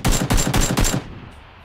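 Four rapid bursts of automatic gunfire in PlayerUnknown's Battlegrounds, close and loud, each a quick rattling volley, followed by a fading tail of quiet.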